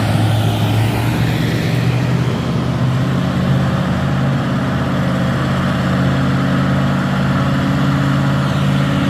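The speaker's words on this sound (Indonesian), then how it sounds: "Berkonvoy truk trailer ini ya teman-teman" A convoy of trailer trucks drives past, their heavy diesel engines giving a loud, steady low rumble that holds throughout with no talking.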